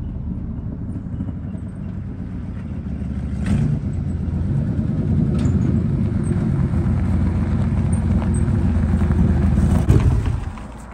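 An old K truck wood hauler fitted with a 57 fueling motor rumbles roughly and loudly with a low, uneven engine drone that swells and then drops off sharply near the end.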